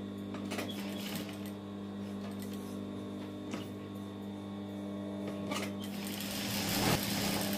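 Sewing machine running steadily while stitching and gathering the lower hem of a summer kaftan, a continuous mechanical whir with a low motor hum throughout, with a few brief clicks and a slight swell near the end, no talking.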